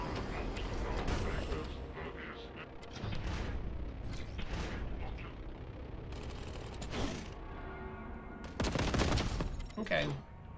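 A bolt gun fires in a first-person video game with an elevator, giving bursts of booming, mechanical shots over a busy, dense game soundscape while a person talks over it.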